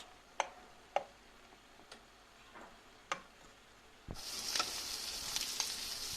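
Söğürme cooks in a pan, first with quiet sizzling marked by several sharp ticks and pops, then a louder, steady frying hiss surges in for the last couple of seconds.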